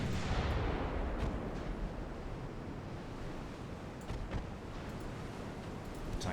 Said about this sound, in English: Main guns and secondary guns are firing.